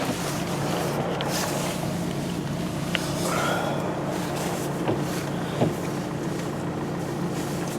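A tent in a Cairngorm pine forest wild camp rumbles and flaps in strong wind, a continuous low diesel-like drone with gusty buffeting and a few sharp fabric snaps, loud and close, no voices.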